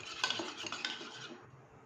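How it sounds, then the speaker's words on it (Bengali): Chicken cutlet mixture with salt and pepper is beaten in a bowl, a quick run of soft clinking and scraping strokes that stays close and fairly quiet, then fades out. "এবার এটাকে ভালো করে ফেটিয়ে নেব।"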